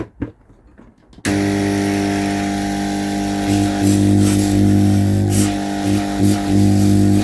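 An electric air pump with its lid removed switches on abruptly after a brief quiet stretch, then runs loudly and steadily with a strong motor hum and rattly buzz that swells slightly partway through.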